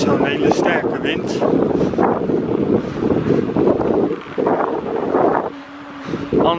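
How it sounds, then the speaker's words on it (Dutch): Wind buffets the microphone while cycling toward Nieuw-dijk, a rough, gusty rumble that is loud and close throughout, with a voice talking over it. "Gelukkig is het niet zo'n hele sterke wind."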